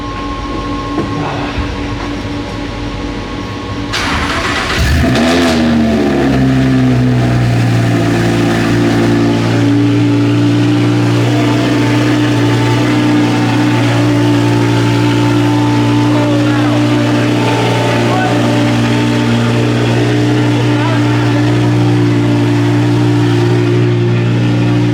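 A car engine cranks and catches with a burst, then settles into a loud, deep, rumbling idle that holds steady and close.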